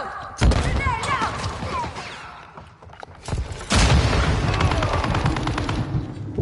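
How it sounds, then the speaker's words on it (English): Heavy thuds and bursts of explosions from a stun grenade and a frag grenade in a multiplayer shooter video game, two big blasts a few seconds apart amid gunfire, with a person talking over them. "Stun grenade out. Grenade out."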